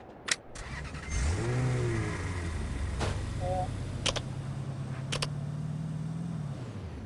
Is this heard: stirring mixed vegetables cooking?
no